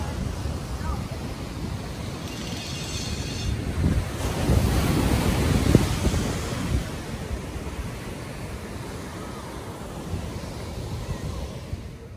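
Surf breaking and washing on an empty, cold beach at Huntington Beach, with gusty wind buffeting the microphone throughout; a steady broadband roar that swells in the middle, with no one speaking.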